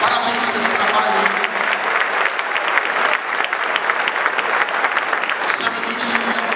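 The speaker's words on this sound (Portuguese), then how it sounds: "Quem crê aplauda Jesus." A church congregation at an evangelical gathering claps loudly and continuously, a thick, bright roar of many hands that holds steady from start to finish, with a few faint voices mixed in.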